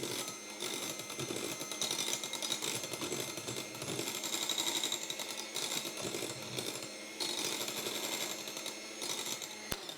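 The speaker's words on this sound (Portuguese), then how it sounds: "à medida que vamos batendo as natas, vamos acrescentando também a gelatina" An electric mixer whips cream for a summer pineapple cake while gelatin is added, giving a steady, loud buzzing whir that runs continuously with slight rises and dips, close and alone with no talking.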